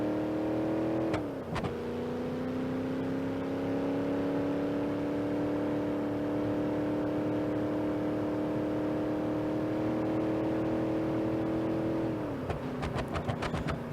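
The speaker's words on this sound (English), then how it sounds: "This thing really loves to rev out" A supercharged car engine with a stage 2 supercharger, in the driving game BeamNG.drive, revs hard and holds a loud, steady high-rpm drone, dipping briefly near the start and again near the end.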